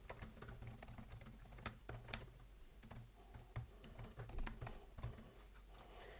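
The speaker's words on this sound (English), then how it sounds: "So let me type it." Close typing on a computer keyboard, a steady run of quick clicking keystrokes with short pauses, alone without speech.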